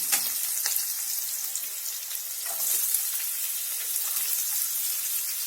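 Green chillies and onions frying in hot oil for a samosa filling, a steady close sizzle with broad hiss throughout and a few faint clinks.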